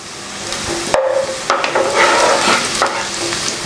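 Vegetables for restaurant-style fried rice are stir-fried and tossed in a pan, with loud sizzling and sharp clanks and scrapes from a spatula hitting the metal at irregular moments, heard close and with no one talking.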